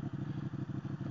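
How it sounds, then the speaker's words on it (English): A 2014 Ducati 899 Panigale sport bike being ridden, its engine giving a brief, fairly quiet, pulsing mid-pitched throb heard alone. "So this is like a super aggressive, super fast sport bike."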